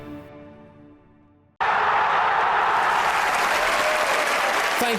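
Audience applause breaks out abruptly after a quiet stretch and holds loud and steady, a dense wash of clapping filling the room at a comedy talk.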